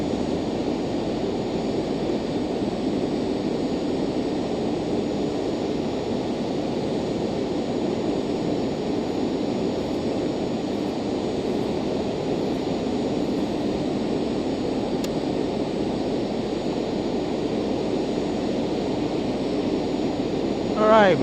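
Twin jet engines of a Citation Jet 525 roar steadily through takeoff and climb, a loud constant rushing drone heard from inside the cockpit with occasional voices over it.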